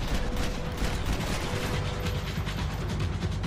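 Rapid, steady pistol gunfire from Max Payne 3, loud and close, repeated shots packed densely across the whole moment with no pauses or talk.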